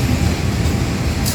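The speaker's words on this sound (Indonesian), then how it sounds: "Melintas kereta Pertamina dari arah utara menuju ke arah selatan" A Pertamina tanker train passes close by on an Indonesian railway line, a loud, steady low rumble of wheels and wagons filling the whole short stretch.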